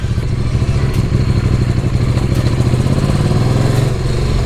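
A KTM motorcycle engine turns over and catches after sitting unused for about six weeks, sounding steady and close with a low rumble, loud and even throughout with no voices.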